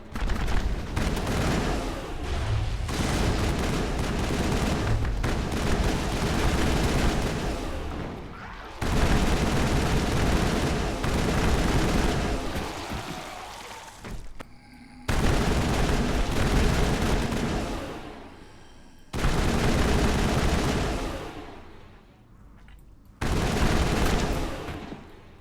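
Sustained bursts of automatic gunfire in the Mass Effect video game come in several long volleys separated by brief pauses, loud and close, with heavy rattling fire and booming impacts.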